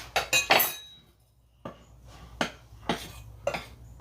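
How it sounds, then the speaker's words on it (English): Whisk clinking against a bowl while buttermilk biscuit ingredients are stirred together, a quick rattling flurry of metallic clinks followed by several separate, spaced taps, close and moderately loud. "We want to whisk this together."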